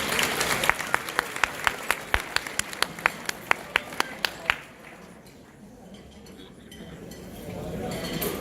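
A small audience applauds after a keynote speech at an International Women's Day event, a steady patter of clapping with sharp individual claps for about four seconds that then fades into quiet room tone.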